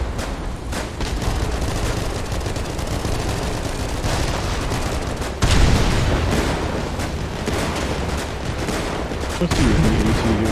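Dense, continuous heavy machine gun fire from a battle tank in a video game, rapid bursts firing at a crane, loud and sustained with booming impacts, a sharper blast midway and faint voices underneath.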